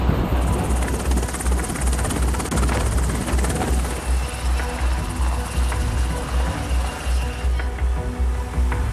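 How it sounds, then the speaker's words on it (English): Large military helicopter flying low near navy ships, a loud, steady rotor roar with a deep rhythmic thump and broadband wash throughout, no voices. "helicopters don't need to land on the ship's deck at all"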